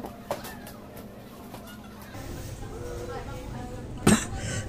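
A faint cough early on, then one sharp, loud cough near the end, over steady background noise in a supermarket.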